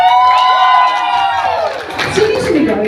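Loud audience at a leadership camp shouting and cheering for a contestant, with high sustained yells from many voices that fade into mixed crowd noise and chatter.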